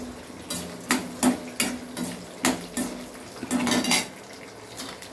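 Metal utensil scraping and clanking against a pan in irregular bursts as beetroot sautés, with a faint sizzle underneath and no voices.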